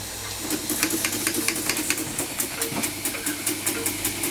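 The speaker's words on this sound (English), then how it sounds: "Yes, there we go. Under steam." A Weeden No.8 model steam engine runs under steam, hissing steadily with a quick, regular chuffing beat from its small cylinder, close and continuous.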